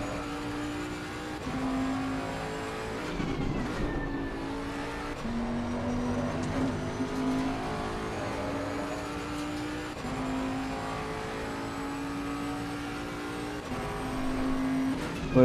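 A race car in Assetto Corsa Competizione howls through a lap, its engine note climbing through the gears and dropping on downshifts, loud and continuous from start to finish with short lifts in between.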